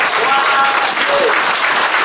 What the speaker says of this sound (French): Acclamez le Seigneur pour ça.